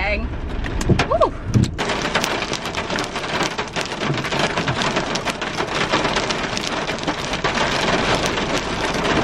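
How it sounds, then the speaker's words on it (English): Heavy rain with hail pours down in a dense, steady hiss, with sharp ticks and rattles throughout. A voice briefly speaks near the start. "Can you hear the rain? It's so rainy."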